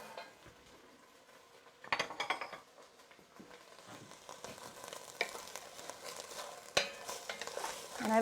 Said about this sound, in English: It's kind of sizzling already.